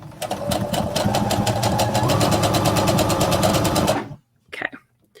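A sewing machine runs steadily for about four seconds, stitching a jacket at a shortened stitch length, with rapid even needle strokes up close, then stops abruptly, followed by a brief handling rustle.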